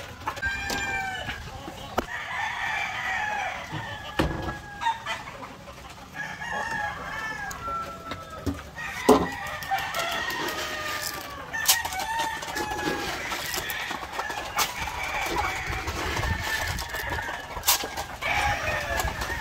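Old five-year-old layer hens clucking in a coop, with a rooster crowing now and then. Steady overlapping clucks and calls come from a mix of near and farther birds.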